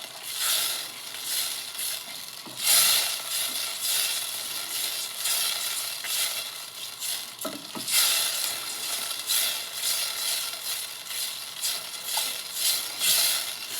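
Food in a pan cooking over low heat while making tonkatsu, heard as a continuous close sizzling crackle with intermittent stirring scrapes and clatter.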